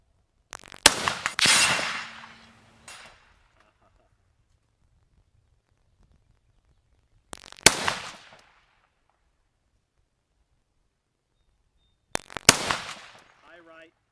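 A big-caliber gun fires three single, loud, sharp shots at an outdoor shooting range, each crack trailing into a short echo, with long quiet gaps between them.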